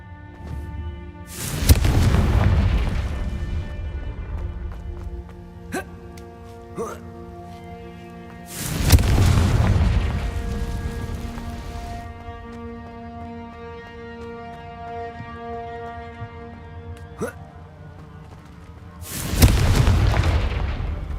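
Three booming Confringo spell blasts from the video game Hogwarts Legacy, each a loud broadband burst followed by a long ringing tonal decay, spaced several seconds apart over sustained background music.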